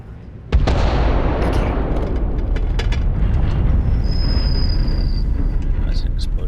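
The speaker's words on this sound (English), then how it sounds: "That's an explosion." Massive explosion in the video game Starfield: a sudden loud blast bursting in, then a sustained roaring rumble that stays dense and heavy to the end.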